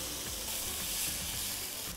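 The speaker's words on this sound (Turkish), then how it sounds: "Tenceremize birazcık sıvı yağ koyuyoruz ve bolca soğan." Chopped dry onions, lightly salted, sizzle in hot oil in a pot, a soft steady crackle and hiss, fairly quiet with faint low background music.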